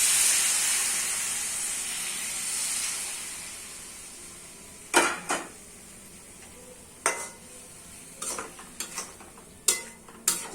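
Hot water poured into a pan of soya tikka masala, a loud hiss and sizzle that fades over several seconds, followed by sharp clinks and scrapes of stirring utensils against the pan.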